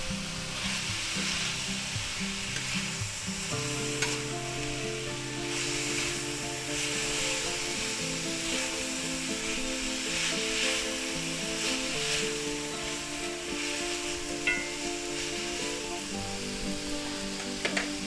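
Garlic shrimp and vegetables sizzle loudly in a hot pan during a stir-fry, a dense continuous crackle with scraping and tossing sounds running throughout, and no one speaking.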